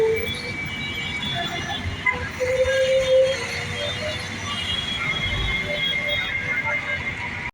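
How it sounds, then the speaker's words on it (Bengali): A train passes near the Mohakhali flyover amid road traffic, its steady rolling rumble joined by a brief high wheel squeal partway through. "দেখুন ট্রেন"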